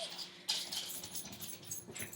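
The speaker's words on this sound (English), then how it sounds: "my puppy Scamp thinks it's time to play, even though it's story time." A puppy whimpers softly in a quiet indoor room, giving a few thin, high whines spread over a couple of seconds.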